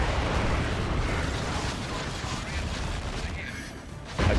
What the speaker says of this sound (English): That was the D-Cannon going down.